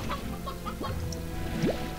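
Soft, scattered clucks from chickens in the game Slime Rancher, several short calls over a steady ambient bed, fairly quiet and with no talking.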